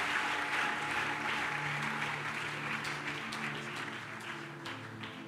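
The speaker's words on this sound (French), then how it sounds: "Can we give a mighty hand clap for Jesus?" A church congregation claps together for Jesus in steady, dense applause that runs without a break and fades a little toward the end, with no voices coming through.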